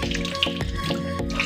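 Eggs are rinsed under a running tap, with a steady close stream of water splashing into a sink and periodic sloshing interruptions as the eggs are turned in the flow.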